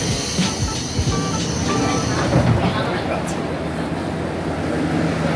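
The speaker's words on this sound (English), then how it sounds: "a super bouncy, super old-school, but undoubtedly incredibly beautiful train that twisted its way all around the caldera" Super old-school, bouncy train winding around a caldera toward Aso station, with steady rumbling wheels and carriage rattle close by, a voice speaking over the ride.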